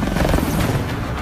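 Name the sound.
helicopter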